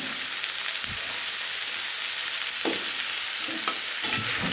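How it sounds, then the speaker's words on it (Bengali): Onions frying with salt over a high flame, a steady close sizzle with a few brief stirring scrapes and knocks at intervals, no talking. "হাই ফ্লেমে পেঁয়াজটা ভাজবো।"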